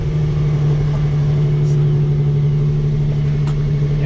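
Stock Nissan 350Z Touring engine idling just after a cold start: a loud, steady low hum with a constant tone and no revving, heard close up.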